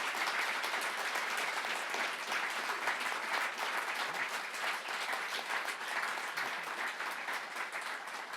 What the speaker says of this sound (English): thank you so much for your applause